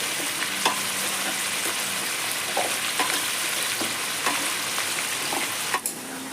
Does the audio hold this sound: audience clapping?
no